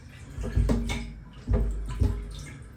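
Water sloshes and splashes in bursts inside a 1991 Mitsubishi 3000GT VR4 fuel tank as it is rinsed out, with several close surges of swirling liquid.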